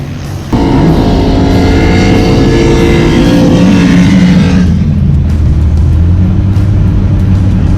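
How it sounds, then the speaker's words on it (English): A highly modified mid-1960s Chevy pickup makes test hits at a drag race, its engine roaring loud and close in one sustained burst that eases back to a steady rumble. "we could see a mid-60s pickup, highly modified Chevy, making some test hits"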